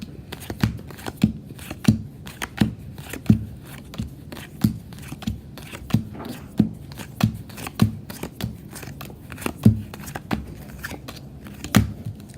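Playing cards dealt one at a time into three piles on a table, a regular series of soft, crisp snaps and slaps repeating roughly every second, close and quiet with no talking.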